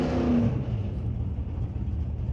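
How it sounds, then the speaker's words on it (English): A loud drag racing car engine roars close by at a raceway, then drops into a steady rumbling drone as it moves off. "that car has an absolutely screaming sound to it"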